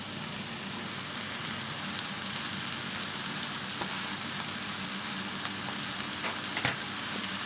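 Continuous loud sizzling of chicken and peppers sautéing in a hot pan, a dense crackling hiss with occasional sharper pops.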